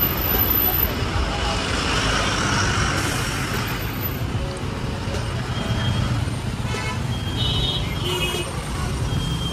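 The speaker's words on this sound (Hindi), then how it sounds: "देख लो ट्रैफिक।" Busy roadway traffic near roadside shops and a scooter parking area in Nainital hums continuously, with passing engines and a few short horn toots toward the end while a voice talks over it.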